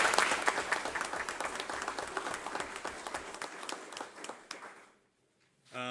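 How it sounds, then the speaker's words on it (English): Applause from the audience at an annual membership meeting, many hands clapping in a full, lively burst that gradually thins and fades out near the end, leaving a brief silence. "I guess I want them to be recognized and applauded for that effort."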